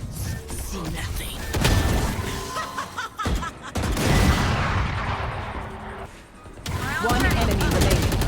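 Rapid gunfire and weapon bursts in the tactical shooter Valorant, loud and dense with sharp shot transients, mixed with game effects while players talk and laugh over it.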